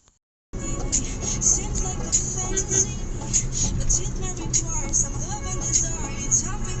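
Steady roar of road traffic on the Valsad highway, with buses and cars rumbling past continuously and close by, a broad engine and tyre drone that holds at an even level throughout.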